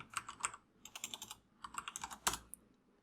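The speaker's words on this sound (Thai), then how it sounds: "พิมพ์คำว่าตีมเนาะ" Fingers typing on a computer keyboard, close and fairly quiet, with quick clusters of key clicks, brief pauses, and one heavier keystroke near the end.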